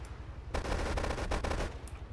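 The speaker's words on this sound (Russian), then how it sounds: "Гад такой стреляет." Rapid automatic gunfire from an enemy shooter in the video game GTA 3, several quick bursts of close, loud shots in a row over a low rumbling game background.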